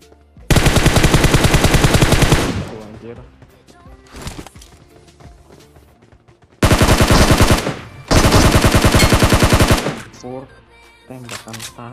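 Gunfire from the PUBG Mobile video game comes in long, loud bursts of rapid automatic fire with pauses between, and players talk in the quieter gaps.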